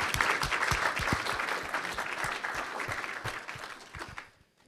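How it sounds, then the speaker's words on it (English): At a business talk, a room of people applauds with steady, fairly close clapping and a few sharp individual claps before it stops abruptly. "Let's give them a round of applause."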